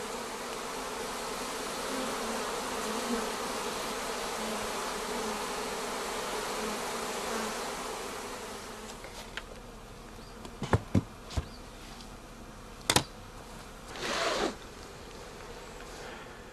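Honey bees buzz in a steady, dense hum from a colony being checked for virus infections. The hum later thins and is broken by a few sharp clicks and handling knocks.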